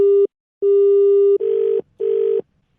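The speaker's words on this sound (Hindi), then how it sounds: "नंबर मिला रहा है भाई बार बार" Telephone tones during a prank call as a number is dialed again and again: two steady ringback-like beeps followed by two harsher buzzy tones, each about half a second to a second long, loud and close with short gaps and no talking.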